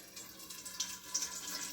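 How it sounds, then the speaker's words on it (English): Grease being drained off cooked ground chili meat into a container, a steady soft trickle and splash of liquid pouring continuously with no talking. "I'm going to drain it in. You can use a colander if you want to, or you can just drain it off like this."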